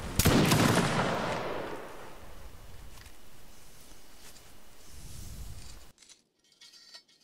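Musket volley in Mount and Blade Napoleonic: a loud massed crack at the start, then a long rolling decay of ragged reports and echoes, fading into quieter distant shots.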